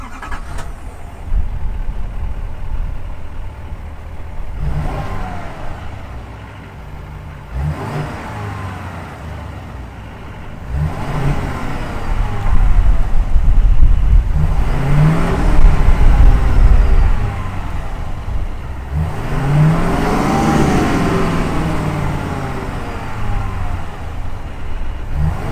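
A 2022 Chevy Silverado 3500HD High Country with a 6.6-liter Duramax turbo diesel starts up and idles with a deep rumble, then revs in several swelling bursts that settle back to idle between them.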